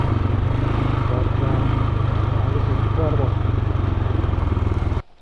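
A motorcycle engine chugs steadily at close range on a steep mountain road, its loud, even pulsing running throughout before cutting off abruptly at the end, with a rider's brief voice over it.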